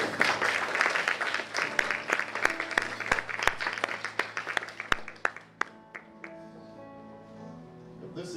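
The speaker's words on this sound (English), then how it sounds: "Please clap for them." Church congregation claps in a burst of applause, dense at first with sharp individual claps standing out, then thinning and fading away toward the end.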